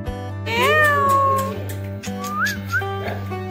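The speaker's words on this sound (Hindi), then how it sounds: "बिल्ली" A cat, a mountain cat, lets out a long, drawn-out meow followed by a couple of shorter rising meows, close and clear over a steady low engine-like hum.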